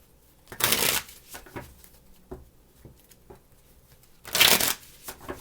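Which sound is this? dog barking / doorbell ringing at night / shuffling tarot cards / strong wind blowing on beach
shuffling tarot cards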